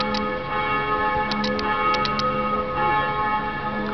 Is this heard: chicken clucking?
no